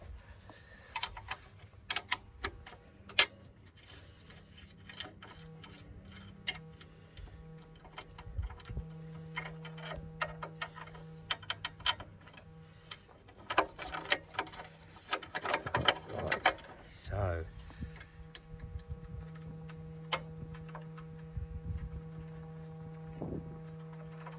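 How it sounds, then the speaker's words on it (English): A bolt is removed from a roller and refitted in a lower position, with faint close ratcheting and clicking, metallic taps and handling noises at an uneven pace, plus some low mechanical hum. "we're going to have to take the bolt out there and then put the bolt in the lower position"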